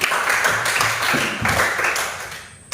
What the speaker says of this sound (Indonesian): Tepuk tangan dulu untuk itu semua